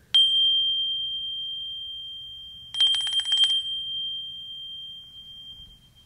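A small handbell, the little one from a church set of many sizes, rings with a clear struck tone that slowly decays, then is shaken into a quick jingling burst that fades out alone.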